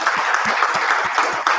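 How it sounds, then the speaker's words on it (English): Audience applause at a small startup pitch gathering, steady dense clapping throughout the short stretch, fairly close and even in loudness. "Everybody give Rebecca a round of applause."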